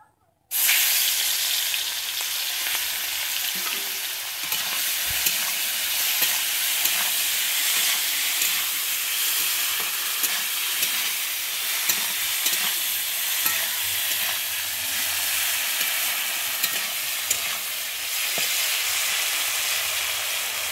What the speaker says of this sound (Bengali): আমি তেল দিয়ে এবার চিংড়ি মাছগুলোকে ভেজে নেব।